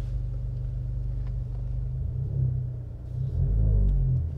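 An Alfa Romeo Stelvio engine idles with a steady low rumble, then swells slightly as if revving gently near the end, close and continuous with no talking.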